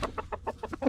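A rooster on a farm gives a quick run of about six short clucks in an even rhythm, close by and fairly quiet, with no talk over them.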